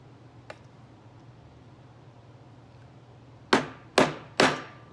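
Three sharp hammer whacks in quick succession, close and loud, driving a fastener on a goalie pad toe strap, after a quiet stretch with one faint tick.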